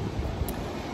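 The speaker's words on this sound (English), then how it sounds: "It's a little windy though" Steady broadband wind rumble buffeting the microphone by a hotel pool in Hawaii, a constant low roar with no voices, lasting about a second.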